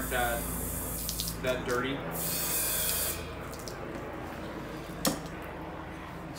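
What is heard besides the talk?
hose spraying water to rinse off cymbals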